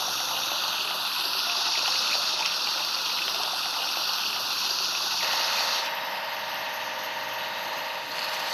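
Water gushes in a loud, steady stream over a toy JCB earth mover, with a broadband rush that shifts in tone partway through.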